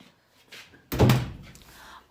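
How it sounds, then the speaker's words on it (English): A door shuts with a single solid thunk indoors, loud and close, amid quiet room noise. "let me close the door"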